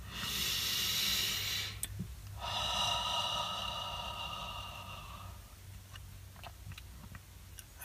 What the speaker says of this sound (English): the best way is through deep conscious breathing